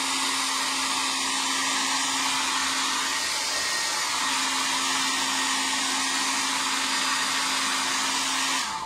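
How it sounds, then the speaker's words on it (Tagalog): A hair dryer blows continuously at close range, drying paint on a Marvel Select Juggernaut figure, a loud steady rushing roar with a constant motor hum lasting the whole stretch before cutting off at the end. "Kung walang hair blower, ang hirap din mag-work."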